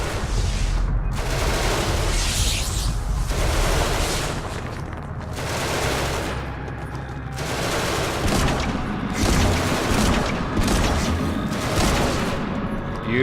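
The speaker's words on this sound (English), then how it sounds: "I really like the heavy pistol." A heavy pistol fires in the sci-fi game Genesis Alpha One: a run of about eight sharp, loud blasts at uneven one-to-two-second intervals, each with a short boomy tail over steady game ambience.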